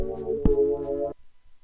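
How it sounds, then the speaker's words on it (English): A synthesizer tone built from toilet-paper sounds, its filter sweeping from closed to open and back with a phaser effect, plays as a sustained note for about a second, with a sharp hit partway through, then cuts off abruptly. "The filter was opening up and closing, so it made like a more from a more closed sound to a more open sound,"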